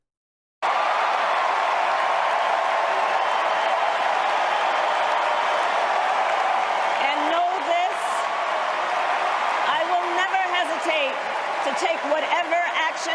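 A large convention crowd at a presidential nomination acceptance speech roars with sustained applause and cheering. A voice rises over the din in the second half.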